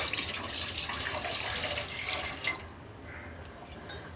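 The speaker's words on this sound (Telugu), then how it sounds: "ఇందులోకి కొన్ని వాటర్ యాడ్ చేసుకోవాలి" Water runs into a cooking pot set on the stove for chicken stock, a steady close splashing flow that lasts a couple of seconds and then stops, leaving quiet room tone.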